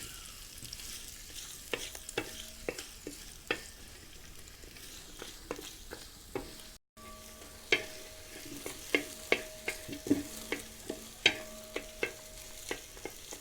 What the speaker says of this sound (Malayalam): ചെറുതായി കട്ട് ചെയ്ത് വെച്ച ഒരു 200-250 ഗ്രാം സവാള ചേർക്കുന്നുണ്ട്.